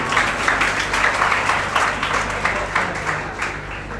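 A crowd at a NEET 2025 results celebration at a coaching institute applauds with steady, continuous clapping that fills the whole stretch.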